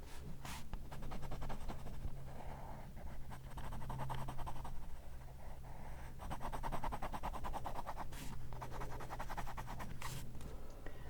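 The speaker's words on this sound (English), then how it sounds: "I love using a really soft pencil. I like the way it sounds." A very soft pencil shades steadily across paper in continuous close strokes, a smooth, creamy scratching texture with brief pauses between passes.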